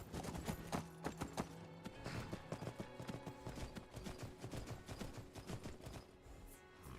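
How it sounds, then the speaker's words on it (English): Horse hooves clip-clop steadily in Skyrim, a quick repeated rhythm of sharp, close, loud hoofbeats running the whole stretch over a busy game soundscape with a faint tonal hum. "Looks like we found ourselves a horse."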